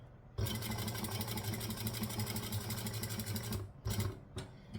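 A sewing machine runs steadily as it stitches fabric at a size 4 stitch length, a loud, fast continuous whir and needle chatter for about three seconds, then a brief stop and two short restarts for back stitching.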